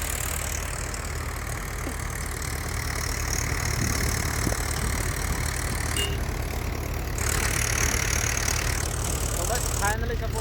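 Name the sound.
tractor engine idling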